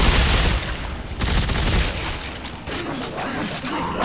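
Rapid bursts of gunfire from a new weapon in the video game Dead Space 3, dense and booming over a constant backdrop of game noise, with some speech mixed in.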